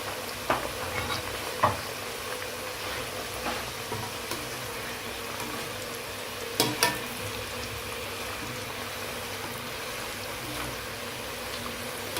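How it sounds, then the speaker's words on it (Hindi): Mini potato samosas fry in oil over medium heat, bubbling in a steady, faint sizzle for the whole stretch, broken by a few soft clinks and splashes, with no talking. "समोसों को ऑयल में अच्छी तरह से डिप करें।"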